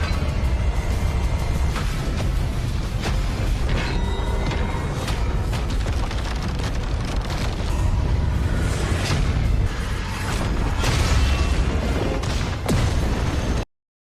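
A dense, sustained barrage of booming rumbles and thuds, loud and continuous throughout, like a large explosion with crashing debris, ending abruptly, from an animated battle against a monster.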